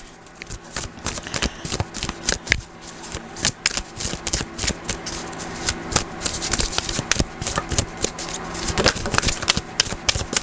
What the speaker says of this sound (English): I'm going to pull a guidance card for you as well.